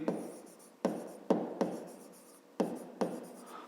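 Pen writing out a fifth-grade math solution on paper, close and quiet, with soft scratchy strokes broken by several sharp taps as the pen lands, steady rhythm with no voices.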